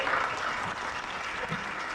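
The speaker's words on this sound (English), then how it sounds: "Could we give him another round of applause?" A graduation audience gives a round of applause, a full, dense wash of many hands clapping together, steady and fairly loud throughout.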